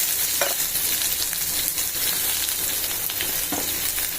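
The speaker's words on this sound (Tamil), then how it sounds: "இந்த வெங்காயம் போட்டு இப்போ இதில் வதக்கி" Chopped onions and dried red chillies frying in hot oil, a steady dense sizzle with occasional stirring scrapes, close and continuous, no talking.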